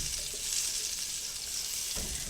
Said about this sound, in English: Okay, it's nice and sizzly now.